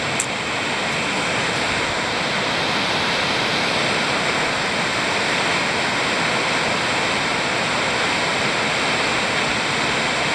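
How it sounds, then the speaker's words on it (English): Steady, dense roar of falling water at Manning Gorge waterfall rushing continuously, loud and broadband with no pauses. "Have a look at that waterfall."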